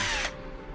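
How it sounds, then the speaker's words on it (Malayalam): A cordless power drill with a double battery whirs briefly at close range, then the motor cuts out and spins down within a second. "ഇത് വന്ന് നമുക്ക് ഇത് കോഡ്ലെസ് ഡ്രിൽ ഡബിൾ ബാറ്ററി വരും."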